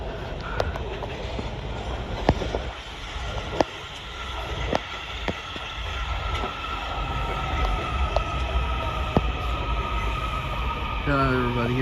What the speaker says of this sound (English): Everybody, here goes the metro.